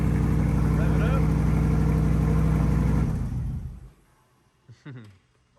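A C8 Corvette Stingray's 6.2L V8 fitted with an MRT exhaust, roaring loud and steady at high revs for about three seconds, then dropping away to quiet, with a brief voice afterward.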